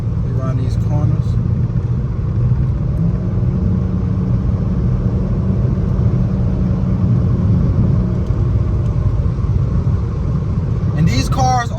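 A Dodge Challenger SXT driven around corners, heard from inside as a steady, continuous low engine and road rumble that holds throughout without letting up.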